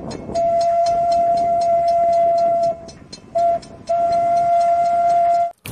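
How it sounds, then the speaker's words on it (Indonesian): A toy Thomas train runs with a steady electronic whistle tone that cuts out briefly and resumes, over faint mechanical clatter, close and fairly loud. "Ada kereta api Thomas"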